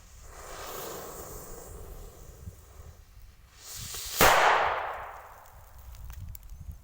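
A Panta Colour Salute BP0038P firecracker goes off in a single sharp, loud bang a few metres away, followed by a decaying rumble, after a quieter lead-in hiss.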